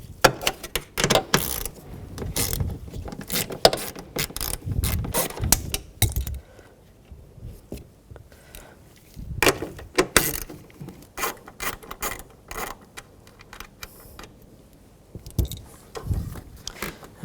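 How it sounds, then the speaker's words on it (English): Ratchet with an 8mm socket loosening the nuts on a 2002-2006 Nissan Altima tail light assembly, making rapid close clicking bursts separated by quieter pauses and handling noise. "We're going to use an 8mm socket."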